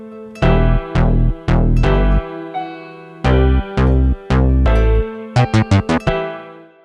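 Full intro of a type beat, with punchy bass notes in grouped rhythmic phrases beneath ringing melodic tones, ending in a fast flurry of short hits, loud and without voices.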